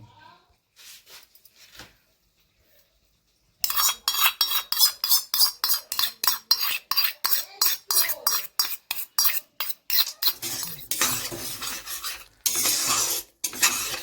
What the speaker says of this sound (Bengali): তো পেঁয়াজ ভাজা হচ্ছে